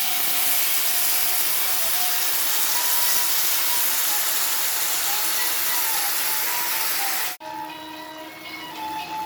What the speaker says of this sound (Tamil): வெங்காயம் பூண்டு வதங்கினதில் இப்போ புளியை ஊற்றுறோம்